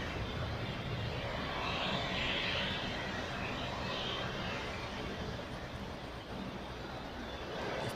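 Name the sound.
British Airways jet departing Zurich for London Heathrow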